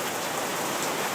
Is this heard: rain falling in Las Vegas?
yes